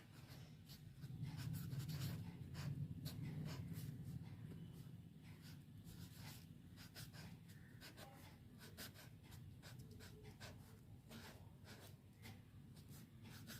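A pen scratches across paper in short, quick strokes, faint and close, with soft breathing in the background and no talking.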